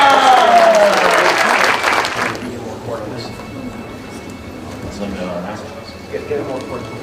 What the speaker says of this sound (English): let's give a big round of applause, courtesy of Weeder Publications, the new Mr. Olympia